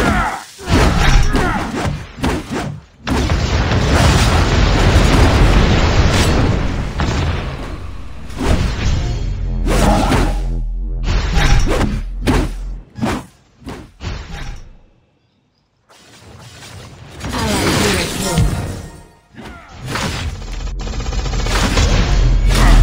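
Explosions and heavy booms from a turret being destroyed in the Vainglory mobile battle game, loud dense bursts and thuds filling most of the stretch with a brief quiet gap near the middle.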